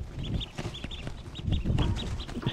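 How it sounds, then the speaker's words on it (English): Two-day-old baby mallard ducklings peep in quick, repeated high chirps, a small group close by, with soft rustling underneath and no talk. "our baby mallard ducks. These cute little guys are about 2 days old"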